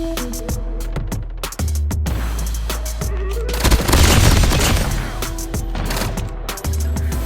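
Fennec gun fired in a first-person shooter game, rapid bursts of loud automatic fire with sharp clicks and booming impacts, heavy and close throughout.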